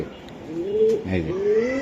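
Racer pigeons coo in soft, throaty warbles amid a busy, close background with faint voices nearby.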